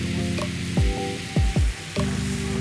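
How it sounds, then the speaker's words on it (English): A pan sizzles as mirin, black garlic and chicken dashi go in to deglaze it after cooking meat. The steady frying hiss runs under background music with several swooping tones. "deglaze the pan with mirin, add in black garlic and chicken dashi"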